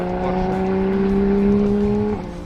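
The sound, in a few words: VW Scirocco racing on Nemuno Žiedas track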